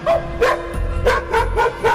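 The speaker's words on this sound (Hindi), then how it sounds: "लेकिन वो कुत्ता अभी भी रोहित को देखकर भौंके ही जा रहा था" A dog in a Hindi horror cartoon barks repeatedly at a boy, a series of sharp yapping barks in quick succession, close and loud, with no talking.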